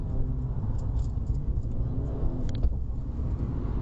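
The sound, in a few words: car accelerating during a driving lesson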